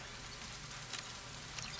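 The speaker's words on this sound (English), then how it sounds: "Lovely rain everywhere." Rain falls steadily in Mass Effect Legendary Edition, a faint, even hiss of drops on surfaces with a couple of slightly brighter patters and no talking.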